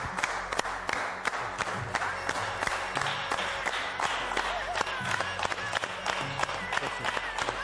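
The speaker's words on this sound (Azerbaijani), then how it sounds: "studiyada xanəndəni ayaq üstə alqışladılar" Studio audience at an Azerbaijani television show giving a standing ovation, with sharp, fairly regular claps over a murmuring crowd, moderately loud and continuous throughout.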